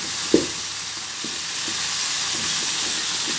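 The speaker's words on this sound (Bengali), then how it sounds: "আর একটা বড় লাউয়ের অর্ধেকটা দিয়ে কষাতে হবে।" Bottle gourd with prawns sautés in a pan under a steady, even sizzle, one sharp knock of the spoon near the start followed by a few faint, soft stirs.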